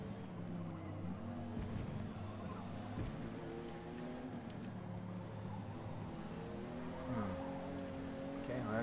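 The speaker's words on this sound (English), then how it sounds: "The vehicle beside me sounds like it has a Viper engine." A race car engine in the Forza Motorsport game, with a Viper-like engine alongside a Jaguar XJ220 during an online A Class race, droning steadily at low pitch and rising in pitch through gear changes, faint and continuous.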